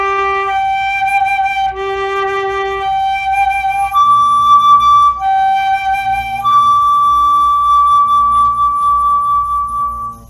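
Brass lip-slur exercise on fundamental, octave and fifth in a low-middle-high pattern: a clear, steady tone stepping between held pitches, alone, each note sustained about a second or more, the final note held long.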